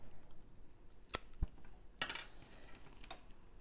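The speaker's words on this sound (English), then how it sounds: "I'm going to cut my excess string" Scissors snip through excess garden string tied on a homemade trellis, with two sharp metallic clicks about a second apart plus a small knock, close and clear in a quiet room.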